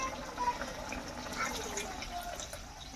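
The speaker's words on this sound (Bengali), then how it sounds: "তো পরিমাণ মতো ঝোল দিয়ে দিতেছি" Broth pours steadily into a pan of chital fish curry, a continuous close splashing fill that holds at an even level for a few seconds.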